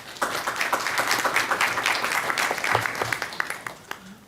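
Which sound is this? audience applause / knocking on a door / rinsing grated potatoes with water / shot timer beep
audience applause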